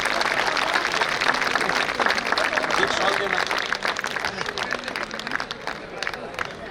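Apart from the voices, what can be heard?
audience applauding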